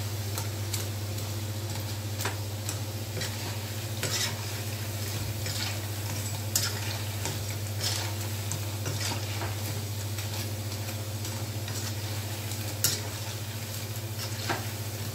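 Pakoda fritters sizzle in hot oil for a pakoda curry while a ladle turns them with sharp clinks against the pan, set over a constant low hum with no talk.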